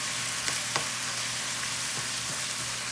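Ground meat for picadillo fries in a pan with a soft continuous sizzle and a few faint clicks of stirring, fairly quiet and steady, with no one speaking.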